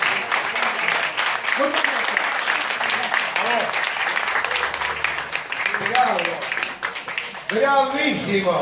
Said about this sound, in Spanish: Ahí estuvieron los aplausos acorde de todo esto